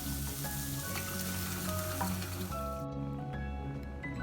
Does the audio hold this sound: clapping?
no